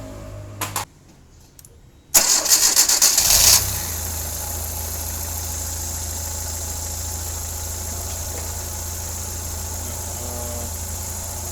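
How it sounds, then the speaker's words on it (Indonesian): A Hyundai Matrix car engine cranks briefly after a click and catches, then settles into a steady, loud idle that drones on alone for several seconds. "Ya, langsung saya starter ya."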